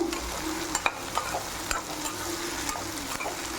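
Brinjal sautéing in hot oil in a pan while being stirred, giving a steady sizzle with scattered scraping clicks from the spoon, close and alone.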